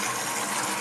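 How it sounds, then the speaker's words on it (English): Water sent by a relay-powered pump into a self-filling dish, a steady rushing gush with even, broadband hiss throughout, close and fairly loud, with no voices. "which sends water into the dish"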